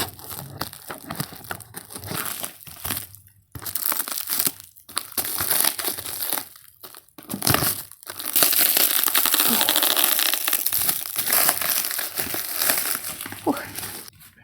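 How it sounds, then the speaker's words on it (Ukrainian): Plastic film is pulled and torn off a book parcel in loud, close crinkling and crumpling bursts with short pauses between. Toward the end the crackling runs almost continuously. "Можливо, я вам не буду показувати весь процес розпакування, бо тут дуже багато плівки, і ймовірно, це буде довго."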